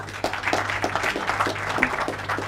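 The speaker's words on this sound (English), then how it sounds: "A round of applause once more" A conference audience applauds with a brief, moderate burst of clapping that stays fairly even throughout, with a low steady hum underneath.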